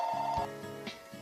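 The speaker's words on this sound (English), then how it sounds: "I'm sorry about the phone ringing." A telephone rings nearby in short repeated electronic trills over a quiet background, with no one speaking.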